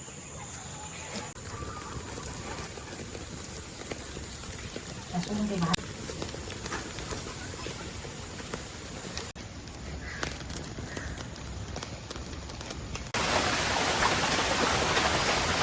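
Steady rain falls outdoors near a clay wood-fired stove where mackerel is roasting on a grill in a Konkan kitchen, a continuous soft wash of patter that thickens and grows louder toward the end.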